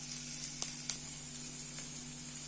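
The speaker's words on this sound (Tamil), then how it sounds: "ஆனி நல்லா வதங்கட்டும்." Onion sautéing in oil in a pan, giving a faint, steady hiss with a couple of soft clicks from a utensil, heard alone.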